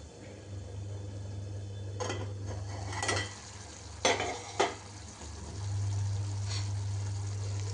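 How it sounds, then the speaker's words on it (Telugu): Ginger garlic paste is stirred into ridge gourd curry in a pan: a low steady hum runs under soft sizzling, broken by several scraping strokes of a spoon against the metal, close and quiet, with no talking. "నేను అల్లం వెల్లుల్లి పేస్ట్ అయితే వేస్తున్నాను కొద్దిగా. వేసేసి చక్కగా కలుపుకుందాము."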